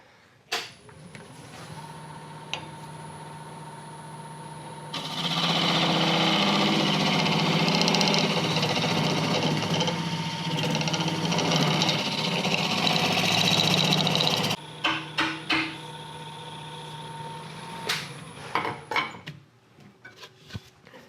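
A homemade high-speed steel scraper brazed onto regular steel hollows a bowl on a wood lathe, giving a loud steady broadband cutting roar over the motor's hum for about ten seconds, with quieter lathe running before and after.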